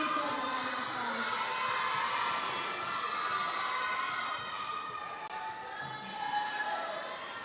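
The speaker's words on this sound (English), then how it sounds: "Give these girls a round of applause." An audience at a Tahitian dance competition cheers and whoops with high excited voices, including children, in a sustained crowd roar that holds steady with little distinct clapping.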